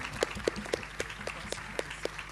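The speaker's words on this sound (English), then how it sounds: "Have a big round of applause for him." A small audience clapping at a school prize ceremony, regular rhythmic claps that sound thin and somewhat distant, with no voices.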